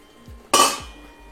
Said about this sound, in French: on va mettre dedans la casserole